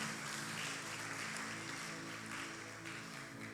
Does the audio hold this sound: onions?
no